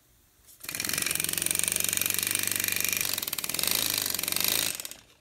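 Model steam engine running on compressed air fed through 1/8 inch plastic tubing and a needle valve, a fast, even mechanical chuffing and clatter heard close and loud for about four seconds before stopping.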